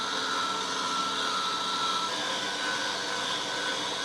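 A meat grinder runs continuously while grinding ice-aged venison, a steady high motor whine with a rough mechanical hum, close and unbroken with no voices.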